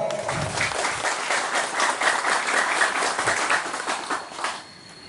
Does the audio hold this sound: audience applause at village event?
yes